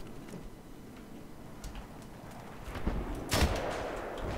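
Gunfire in the video game Battlefield 3 multiplayer: a soft background of shots that peaks in a single sharp, loud burst near the end, with no talking.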